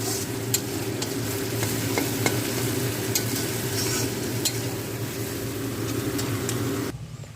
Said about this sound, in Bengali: এইদিকে হচ্ছে চাউমিনের এই যে সবজিগুলো ওগুলোকে আগে ভেজে নিচ্ছি